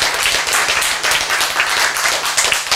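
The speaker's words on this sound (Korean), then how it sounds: "박수!" A church congregation claps during a sermon, a dense burst of many hands applauding close and loud for a few seconds with no talk over it.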